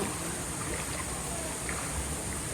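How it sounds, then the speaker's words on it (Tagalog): Water from a hot spring stream flows outdoors in a steady, dense rush with no pauses, close and continuous throughout. "Naririnig mo lang yung agos ng daloy ng tubig."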